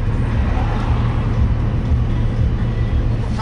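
A Porsche 911 GT3 RS in sport mode with a PDK gearbox, heard while driving as a steady loud low engine drone and road rumble from inside the car, with no clear revs or shifts.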